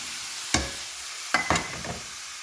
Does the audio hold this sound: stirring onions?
yes